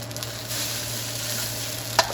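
Breakfast eggs frying on a hot skillet give a steady, close sizzle and crackle throughout, with a brief sharper pop near the end and no talking.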